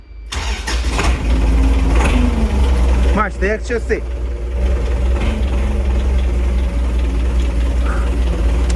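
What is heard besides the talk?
tractor engine starting and idling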